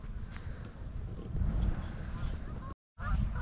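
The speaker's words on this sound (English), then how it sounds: "geese flying over here" Geese honking as a flock takes off and flies overhead at Lintrathen Loch in Scotland, calls scattered through steady wind noise on an outdoor microphone, with a brief dropout near the end.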